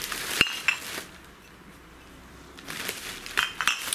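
A plastic bag crinkles as an item is put back into it, two bursts of rustling near the start and end around a quiet middle.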